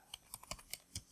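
Keys tapped on a computer keyboard while typing text, about six light, evenly spaced clicks close by in a quiet room.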